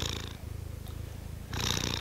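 A kitten purrs close up in a quiet room, a soft continuous rhythmic rumble that swells a little louder toward the end.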